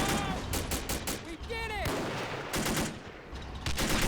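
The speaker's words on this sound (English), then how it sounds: "So let's throw a grenade." Gunfire and a grenade blast crackle through a Men of War: Assault Squad 2 battle, with repeated sharp shots, a whistling projectile sound and steady loud combat noise throughout.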